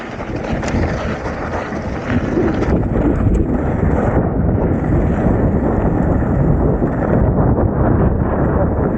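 Strong wind roars continuously on a sandy downhill mountain bike trail, buffeting the microphone with a dense, rumbling rush that barely lets up.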